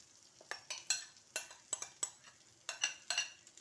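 Metal utensils scrape and tap against a pan while a corn flour breakfast cooks, with irregular close stirring clinks over a soft background of low heat.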